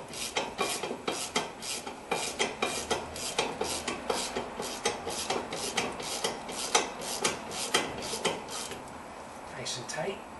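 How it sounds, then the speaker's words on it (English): Brake caliper bolts on a Honda Accord being tightened with a ratchet, a long run of quick, close metallic clicks in a steady rhythm, occasional faint speech underneath. "you can tighten this up all the way."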